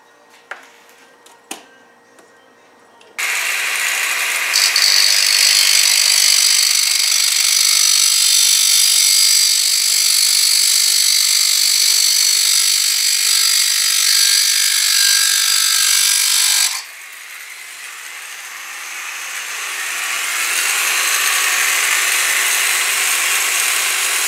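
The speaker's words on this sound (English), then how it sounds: "I'm just going to use a grinder with a used cutoff wheel." A grinder fitted with a worn cutoff wheel cuts through a metal link for an SCX10 build, a loud steady high-pitched whine after a few light taps, then spinning down and rising again near the end.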